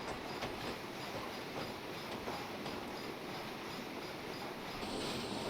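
A simulated train on the Ayr Line in western Scotland runs steadily along the rails, with a dense, continuous rumble and faint rhythmic clatter throughout, loud and close with no voices.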